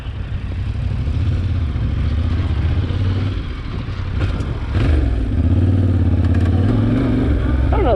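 Yamaha Tenere 700 motorcycle riding off-road, a steady mid-pitched engine drone with rumble and gear clatter running throughout, swelling slightly as it accelerates, with some talk over it.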